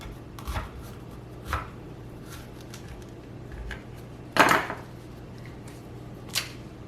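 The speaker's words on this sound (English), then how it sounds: "And I'm just going to cut the peach into slices." Peaches cut into slices with a knife on a board, a handful of separate thuds spaced about a second apart, one louder knock midway, close and quiet with no one talking.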